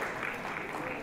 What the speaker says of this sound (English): Who needs music when you got the sound of clapping?